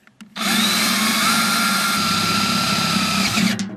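A power drill bores a half-inch hole through the body of an old rustic wheelbarrow, a loud continuous whine lasting about three seconds that starts abruptly and stops, close up.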